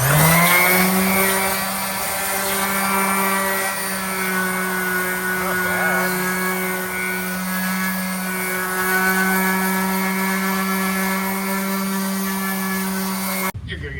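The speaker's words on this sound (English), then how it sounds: "So we're gonna go straight DA. 120 grit to kind of match the machine surface of the new clutch." A dual-action sander with 120 grit resurfaces a new clutch surface on a Dodge Ram, a loud steady whine with a strong constant hum running unbroken for most of the stretch before cutting off abruptly.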